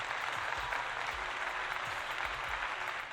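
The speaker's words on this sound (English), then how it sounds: "Wait, I actually have applause again." Applause sound effect played on a livestream, a steady burst of crowd clapping lasting a few seconds at fairly loud level.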